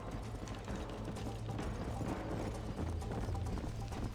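Rapid galloping hoofbeats from a horse race in the video game Red Dead Redemption form a dense, loud, continuous drumming mixed with mechanical rattling and a low steady hum, with no voices.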